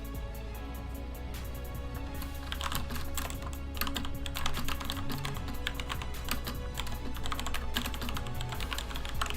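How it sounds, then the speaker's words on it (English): Fast, continuous clacking of a computer keyboard, with busy irregular bursts of keystrokes close to the mic against a faint steady hum. "Sorry for typing."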